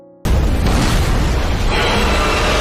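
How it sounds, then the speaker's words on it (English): A huge explosion erupting around a dragon's body in an anime, a sudden loud blast that bursts in after near silence and sustains as a roaring, crackling rumble to the end. "Suddenly, a huge explosion occurred around Samson's body"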